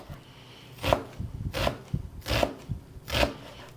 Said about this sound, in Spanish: Vamos a picar en pequeñas porciones la parte blanca.